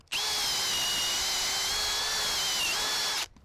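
An Irwin Speedbor half-inch paddle bit bores through a treated 4x6 on a power drill, one continuous loud whining run of about three seconds that stops abruptly.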